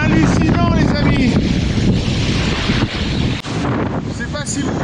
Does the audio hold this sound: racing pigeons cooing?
no